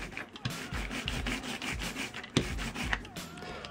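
A printmaking roller rolls a thin film of ink across a flat surface for stamping, producing a soft, continuous tacky rubbing sound with steady back-and-forth rhythm, close and quiet, with no voices.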